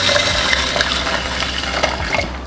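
Hot water pours steadily onto magnesium chloride flakes in a container, a loud, continuous splashing gush that fades near the end, with no talking.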